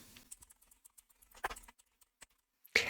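Someone types a search on a computer keyboard in a quiet room, with scattered soft key clicks and a few louder, sharper taps that sound close by.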